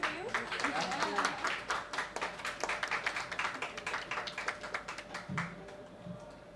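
An audience applauds at a book launch, a dense burst of hand clapping that slowly thins and fades, with people talking over and after it.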